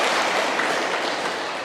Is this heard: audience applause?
yes